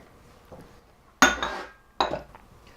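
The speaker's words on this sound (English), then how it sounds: "So in go the white chocolate nuggets." White chocolate nuggets dropped into brownie batter in a bowl, heard as two distinct clinking hits about a second apart, with quiet background between.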